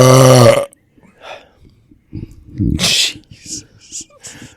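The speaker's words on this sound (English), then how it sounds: "why would you burp into the mic?" A loud, drawn-out burp right into a microphone opens the clip, followed by people chatting and reacting.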